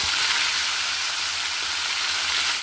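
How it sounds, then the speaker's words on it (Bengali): Hilsa fish frying in hot oil in a kadai, a steady, loud, close sizzle and crackle that holds evenly throughout with no talking. "এবার আমি এর মধ্যে ইলিশ মাছটা দিয়ে আমি ভালো করে ভেজে নেব।"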